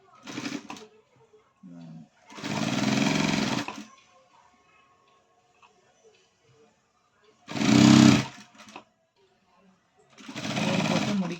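A sewing machine stitches a low-neck princess-cut blouse in three separate whirring bursts of a few seconds each, with quiet pauses between them.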